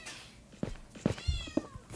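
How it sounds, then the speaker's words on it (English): A house cat meows several times, with short, fairly quiet meows spaced apart in a quiet room, alongside a faint thud. "That's my cat."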